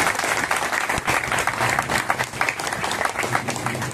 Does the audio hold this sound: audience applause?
yes